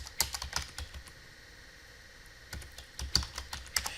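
Computer keyboard keys tapped in quick irregular bursts while a command is entered on a router or switch console, close and clear, with brief pauses between clusters of keystrokes and no talking.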